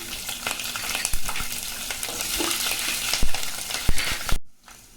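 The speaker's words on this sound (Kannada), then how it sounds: "ಇದೆಲ್ಲ ಚೆನ್ನಾಗಿ ಫ್ರೈ ಮಾಡ್ಕೋಬೇಕು." Green chillies, dried red chillies and onion fry in a pan for Karnataka-style vangibath, a steady loud sizzle with occasional sharp clicks of a spoon stirring, cut off abruptly near the end, no talk.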